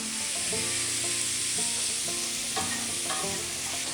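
Fresh lamb liver and onions fry in a pan while being stirred continuously, a close, steady sizzle broken by repeated scraping strokes of the utensil against the pan.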